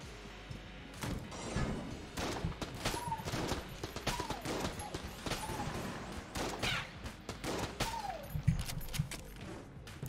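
Dense, rapid gunfire from a gun in the video game Enter the Gungeon, a fast stream of sharp shots with thuds and crashes mixed in, moderately loud throughout.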